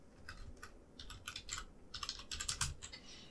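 Someone typing on a computer keyboard at close range, with irregular bursts of light key clicks. A few keystrokes come quickly, and there are short pauses between the bursts.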